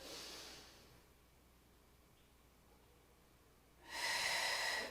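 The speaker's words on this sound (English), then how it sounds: "I'm filling my lungs by breathing in through my nose" Deep breath drawn through the nose during a neck and spine stretch, a soft airy rush that swells to a loud, close exhale near the end after a quiet pause; no talking.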